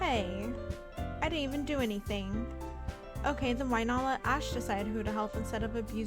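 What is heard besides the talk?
No distinct noise like a dog, phone or traffic.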